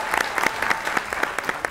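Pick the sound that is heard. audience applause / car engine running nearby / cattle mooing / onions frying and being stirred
audience applause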